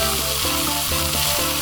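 Constant crackling sizzle of hot butter frying in a pot, loud and close, with faint tonal clinks underneath.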